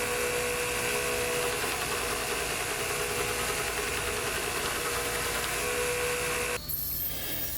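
A 2x72 belt grinder runs at a steady high whine as a full-tang knife spine is sanded toward a 220-grit finish, loud and close, with a sudden change in the tone near the end.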